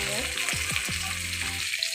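Fish fries in a home kitchen pan, a close, steady oil sizzle with bubbling crackle throughout a brief moment.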